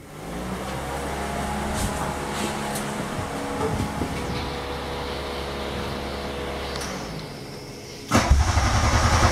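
A 1984 Volkswagen Golf Mk1 GTI with a straight pipe exhaust cranks and fires up near the end, jumping to a loud, raw, rumbling idle after a long stretch of steadier low background noise.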